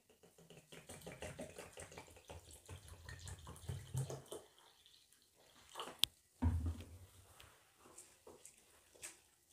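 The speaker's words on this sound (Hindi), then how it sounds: "नाश्ता बनाने के लिए हमने पोहा लिया है तो इसे अब हम धो लेंगे पहले" Water splashes and runs as poha (flattened rice) is washed by hand in a kitchen, with sloshing, trickling and a sharp clink partway through, fairly quiet and with no talking.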